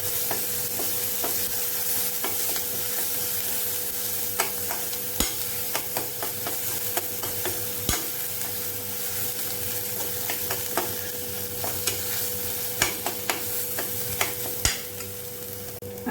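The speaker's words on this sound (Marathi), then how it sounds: "तो सुद्धा तेलामध्ये परतून घ्यायचा." Ground masala paste for a Konkani-style cashew curry frying in oil, with a steady low sizzle and irregular scrapes and taps of a spoon stirring against the pan, close and continuous, with no talk.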